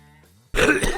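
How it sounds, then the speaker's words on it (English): A single sudden, loud cough straight into a microphone, bursting in after a quiet hum and lasting about half a second. "I muted the browser audio and then coughed into my microphone."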